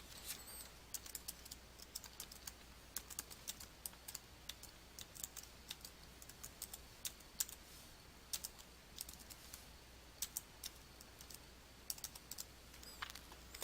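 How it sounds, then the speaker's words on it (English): Rapid, light keystrokes on a computer keyboard as a file name is entered in Outlook, crisp clicking taps in quick bursts, close and clear with no talking. "type a new name for the PDF into the File Name text box"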